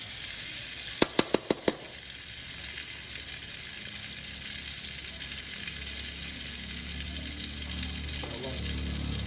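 Cooking oil sizzles in a pan while tofu is stir-fried, a steady close hiss that follows a quick burst of four sharp metallic clicks, with no voices.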